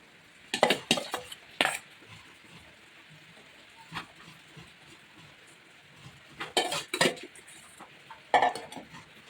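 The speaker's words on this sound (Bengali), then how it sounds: "এখন আমি গ্রেভিটা পুরোটা দিয়ে দিচ্ছি" Gravy poured into a pot of vegetable quinoa biryani, with clusters of sharp clanks and scrapes from a utensil against the pot, separated by quiet stretches, close by.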